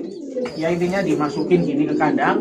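Pigeons and pigeon chicks in a cage give soft, throaty cooing and low warbling calls close by, while someone talks over them throughout.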